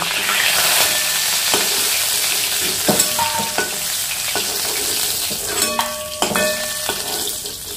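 Steady hiss and crackle of rohu fish frying in hot oil, with occasional light clinks of a utensil against the pan.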